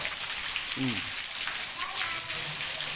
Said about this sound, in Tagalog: Meron pang ulan.